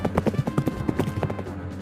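Cavalry horse hooves clip-clop in a quick, uneven rhythm of hard knocks, fairly close and steady throughout, with no voices.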